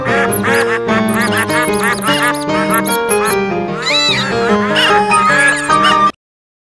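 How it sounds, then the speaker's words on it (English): A rapid string of close, loud quacks and duck-like calls chatters over about six seconds, then cuts off abruptly to silence. "No quacking in the library. Please quack in the courtyard instead."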